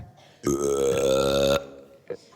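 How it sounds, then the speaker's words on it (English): One long, loud, resonant burp lasting about a second from an elementary school stage performance of Willy Wonka, close up, followed by a short voiced sound. "Wait, burping is the answer."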